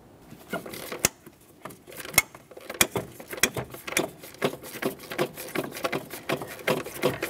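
A 12mm ratchet backs out an intake mounting bolt on a 2011-2020 Toyota Sienna 3.5L V6, giving a close run of irregular clicking strokes that speed up and grow steadier toward the end.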